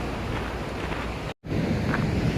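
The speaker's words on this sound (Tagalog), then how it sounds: "talagang makikita mo yung hampas ng alon talaga oh" Ocean surf crashing on the rocky shore of Easter Island, a loud continuous wash of breaking waves and wind roar with a momentary dropout midway, no voices.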